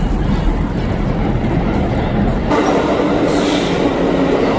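A subway train arrives at a station with a loud, continuous rumble of wheels and carriages, the roar shifting partway through as cars pass close by, with no talk.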